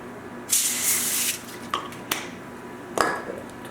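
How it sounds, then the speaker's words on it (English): Cooking spray hissing onto a baking sheet in a kitchen, one long close spray burst followed by a few shorter bursts and light clatter of the pan. "a little spray so it doesn't stick,"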